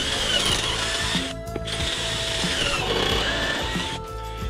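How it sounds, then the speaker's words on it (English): Power drill boring a hole through a cabinet door with a clamped drilling jig, a loud whirring motor with grinding bites into the wood, briefly stopping twice before spinning up again. "go in and drill out your hole."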